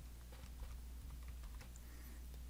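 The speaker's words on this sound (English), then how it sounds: "Now I can go ahead and type the x off the keyboard" Faint, soft clicking of a computer keyboard as a function formula is typed into the Desmos graphing tool, light scattered keystrokes close by with no talking.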